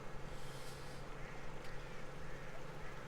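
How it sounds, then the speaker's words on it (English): Ducks quack in the Farming Simulator 17 video game on the Chellington map, a few faint calls scattered over a dense, steady wash of ambient game noise. "Friggin' ducks."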